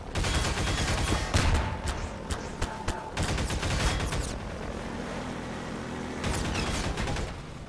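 Enemy chain gun in Half-Life 2 firing close by in long, rapid bursts of loud crackling shots, pausing briefly between volleys over a rumbling mechanical background.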